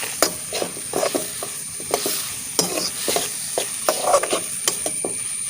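Tomato soup ingredients frying in oil and being stirred, with a quiet sizzle and a string of sharp spoon-against-pan knocks and scrapes at an uneven rhythm, close by, no talking.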